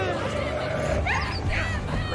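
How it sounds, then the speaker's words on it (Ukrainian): A dog in the post-apocalyptic shooter Metro Exodus barks and whines amid dense game ambience, with muffled overlapping voices in the background throughout the short passage. "Ота собака."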